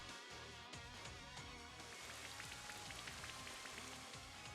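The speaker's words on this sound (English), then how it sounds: "Let there be rain." Rain weather effect in the Pokemon Sword video game: a dense, steady patter of falling rain and droplets, continuous and even, with no voices over it.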